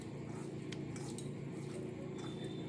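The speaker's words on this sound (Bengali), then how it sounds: "এবার এখানে পাস্তার মধ্যে আমি একটু সাদা তেল মাখিয়ে দেবো" Boiled pasta is tossed with white oil in a dish, with light metallic clinks and scraping of a utensil against the bowl at a steady pace over a low background hum.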